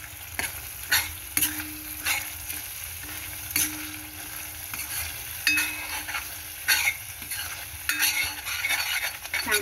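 A spoon works chole masala with a spoonful of yogurt around a hot pan, scraping and tapping in a steady, repeated rhythm over a continuous close sizzle.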